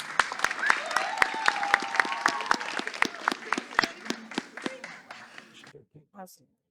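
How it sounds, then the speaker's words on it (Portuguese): Scattered applause from a small audience greets a schoolgirl named Mariana as she comes forward at a live podcast recording. Distinct individual claps with voices murmuring underneath, tapering off into quiet near the end. "Palmas para Mariana, pessoal"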